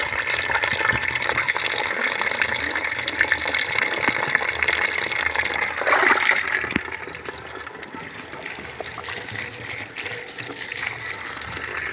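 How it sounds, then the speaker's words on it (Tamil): Water poured onto a henna plant in a garden in Chinnamanur, Theni district, a steady splashing gush that swells around the middle, then eases to a softer continuous trickle. "அடுத்து மருதாணிக்கு ஊற்றுறோம்"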